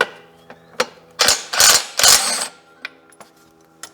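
Ratchet with a 17mm socket clicking as it loosens a bolt on a BMW 850i V12 engine during disassembly: scattered sharp ticks, then three dense bursts of rapid ratcheting, close and fairly loud, with no talking.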